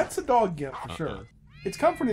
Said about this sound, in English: Big old wad of cats in there.